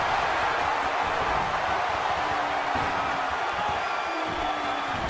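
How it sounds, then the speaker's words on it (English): A dense crowd roars and cheers steadily through a wrestling match in the WWE 2K16 video game, a constant wash of arena noise with no clear peaks or pauses. "by the sound of this crowd, I think they're getting what they wanted"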